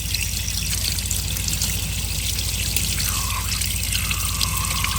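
Water pours and trickles steadily out of the flooded engine of an abandoned 1974 Pontiac Ventura, a close continuous splashing stream with faint dripping tones rising through it.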